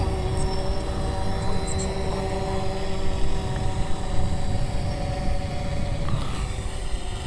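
A drone's motors during an automatic precision takeoff, a loud, steady whirring hum with a broad rushing wash beneath it, close by and continuous, with no talking.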